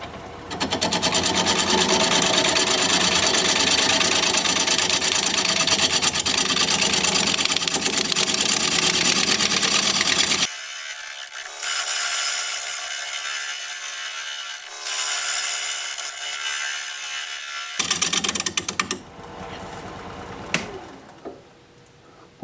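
Wood lathe spinning at about 540 RPM while a 5/8 inch bowl gouge cuts pitchy wood: a loud, steady grinding rasp for ten seconds, then a lighter scraping hum, a final burst of cutting and the motor winding down.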